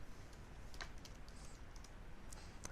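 Faint keyboard typing: a quiet run of soft key clicks at an uneven pace over a low background hiss, with no voices.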